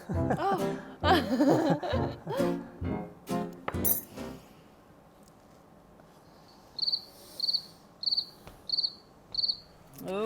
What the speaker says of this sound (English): your studio got cricket